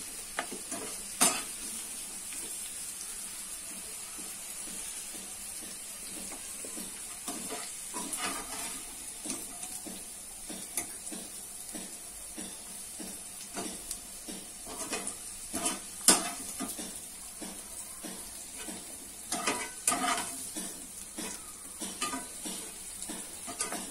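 Mixed vegetables for an Odia-style curry fry and sizzle in oil in a pan, a steady close hiss broken by frequent clinks and scrapes of a utensil stirring against the metal, with no voices.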